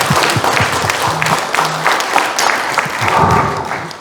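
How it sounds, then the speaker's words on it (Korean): Audience applause at a book launch talk show in Hongcheon, a dense steady wash of many hands clapping that fills the whole stretch, close and loud, with a brief voice surfacing partway through. "큰 박수 한번 부탁드리겠습니다"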